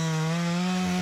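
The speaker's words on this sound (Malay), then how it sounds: "Lebih-lebih lagi apabila bekerja menggunakan gergaji berantai." Chainsaw running steadily at high revs while cutting tree branches during tree felling work, a loud sustained whine with a strong buzzing tone and no pauses.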